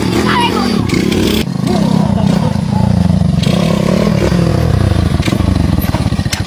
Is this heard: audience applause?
no